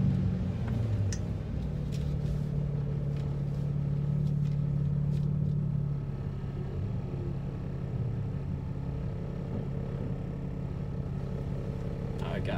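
A 2003 Mitsubishi Eclipse GTS at a drag strip doing a short burnout, its engine droning loud and steady with tire roar before easing to a lower hum, people talking over it.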